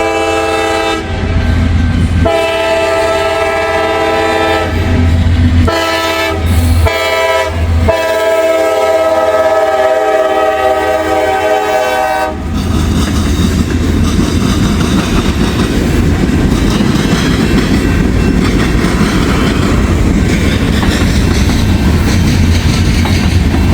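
Freight train rolling through a level crossing between Fostoria and Deshler, loud and close, with blaring horn blasts early on, then a steady rumble and clatter of wagons as it passes.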